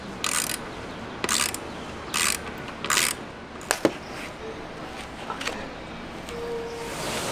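A ratchet wrench backs off the bolts of a surfboard mount outdoors, giving several short bursts of rapid clicking spaced about a second apart, followed by a couple of sharp metallic knocks and quieter handling noise.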